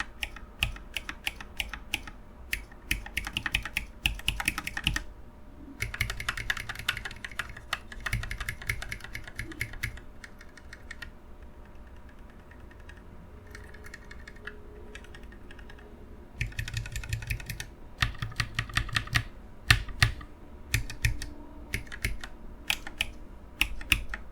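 Typing on a mechanical keyboard fitted with pre-lubed Alpaca linear switches, bursts of rapid clacky keystrokes close up with short pauses between runs and a quieter stretch in the middle.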